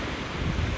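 Water splashing in a video game at night, a steady rushing wash of surf-like noise with a slight swell near the end, no talking.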